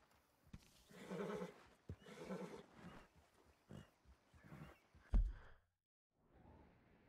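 A horse in the video game Red Dead Redemption 2 neighs and whinnies in bursts, fairly close, followed by snorting, with faint clopping hooves in the background.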